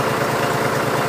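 A cold John Deere 5103 tractor diesel engine runs in a barn after a cold start, giving a brief, steady, close idling rumble with a quick rhythmic low pulse and no voices.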